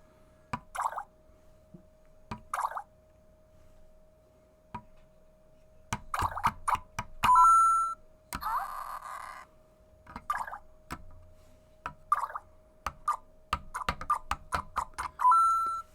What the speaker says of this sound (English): There's the water noise.